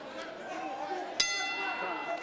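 A boxing ring bell in a Miami, Oklahoma bout strikes once sharply and rings on in a sustained metallic tone over crowd chatter and ringside commentary.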